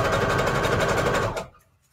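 A sewing machine runs in a fast, steady whir while stitching embellishments onto lace, close and loud, then stops abruptly, leaving near silence.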